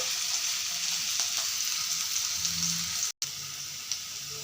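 Potatoes and onions frying in a pan give a steady, moderate sizzle that holds evenly throughout, with a brief dropout near the end.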